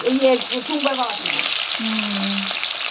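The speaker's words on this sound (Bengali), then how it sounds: "এই দেখো বন্ধুরা এখন হচ্ছে ফুলকপিটা ভাজা" Cauliflower sizzles steadily as it fries in a pan for a Bengali home-cooked lunch, with an even hiss running throughout and a few brief squeaky scraping sounds over it.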